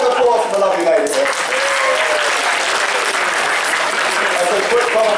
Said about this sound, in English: Round of applause for the lovely lady here.